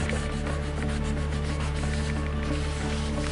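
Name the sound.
rubbing polish onto a silver ring to shine it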